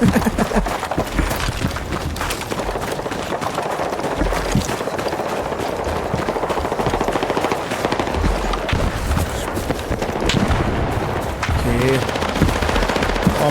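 Rapid automatic gunfire in the video game Battlefield 6, sustained bursts of machine-gun fire crackling almost continuously and loud, with occasional heavier shots and scattered explosions in the background.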